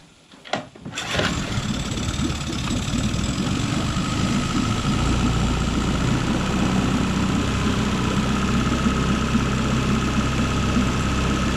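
A jon boat's outboard motor cranks over in a couple of quick pulls near the start, then catches and settles into a loud, continuous, steady run close by with no talking.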